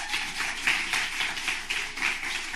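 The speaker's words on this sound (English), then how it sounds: "Give her a big round of applause." An audience at a live stage show applauds a volunteer with a dense, steady wash of many hands clapping at moderate loudness for a couple of seconds.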